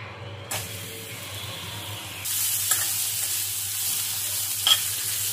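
Chopped onion dropped into a pan of roasting gram flour for restaurant-style paneer bhurji, bursting into a steady loud sizzle with scraping stirs and a few sharp spatula clicks.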